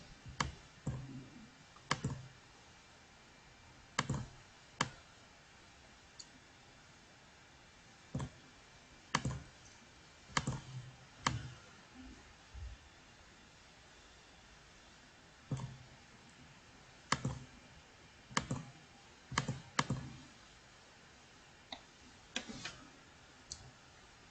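Sharp computer mouse clicks, single and in quick pairs, sound close and crisp at irregular intervals while text is edited in a document program, over faint background hiss with no talking.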